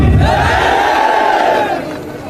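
A large rally crowd in Rewa, Madhya Pradesh roars a loud, sustained chant of "Jai Bhim" in unison, a massed shout close and dense that holds steady before tapering slightly at the end.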